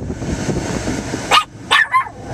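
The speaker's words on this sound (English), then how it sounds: "She's always looking for people to bark at." A dog barking from inside a truck cab, three sharp close barks in quick succession after a stretch of rumbling road and engine noise.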